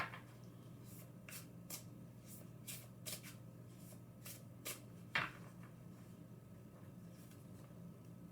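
Oracle cards riffled and shuffled by hand, a series of soft, quick flutters in bursts at close range over a quiet room hum.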